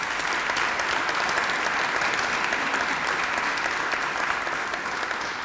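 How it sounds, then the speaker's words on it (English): Sustained, dense applause from an audience at a fire station dedication and ribbon-cutting ceremony, loud and steady for the whole stretch with no pauses. "let's give them a round of applause"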